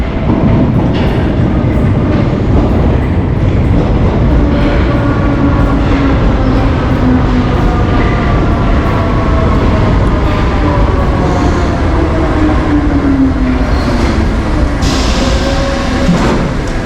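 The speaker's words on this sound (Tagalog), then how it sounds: "So the train is coming." A train pulling into a station in Paris, its steady loud rumble and clattering wheels filling the whole stretch, with faint squealing brake tones sliding through the middle and no voices.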